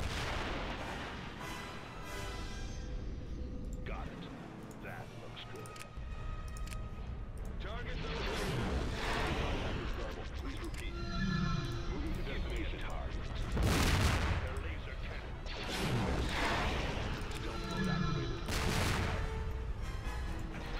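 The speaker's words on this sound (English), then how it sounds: "Okay, on mecha cannons, go ahead and fire at everything you see." Mecha cannons in a Star Wars strategy game fire repeatedly in heavy booming volleys, sharp blasts recurring every few seconds over a continuous battle rumble, with someone talking throughout.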